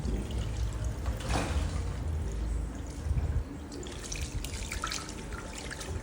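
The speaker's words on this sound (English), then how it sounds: "I just use normal water to rinse out the purple shampoo" Water poured and splashed to rinse purple shampoo out of a bleached hair closure, a continuous close splashing and trickling that surges briefly partway through, with no talking.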